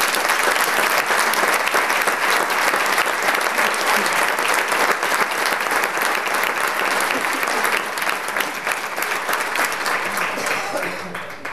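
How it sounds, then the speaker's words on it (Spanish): An audience gives dense, sustained applause at a Holy Week program presentation in a hall, with loud continuous clapping that fades slightly toward the end. "por Jesús Manzaneque, para el que pedimos otro fuerte aplauso"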